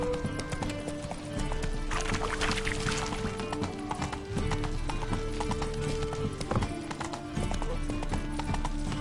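Horse hooves clip-clop steadily at a walking pace, fairly close and clear, mixed with other background sounds throughout.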